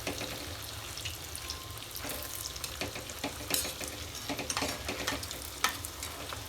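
Chicken lollipops fry in a pan with a steady, dense sizzle and crackle, punctuated by brief scrapes and clinks as pieces are turned over; close and continuous, with no talking.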